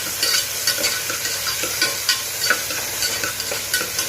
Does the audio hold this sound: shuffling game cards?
no